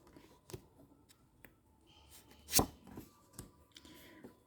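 Tarot cards are shuffled and drawn by hand in a quiet room, making soft scattered flicks and taps with one brief sharper riffle midway, close and fairly faint.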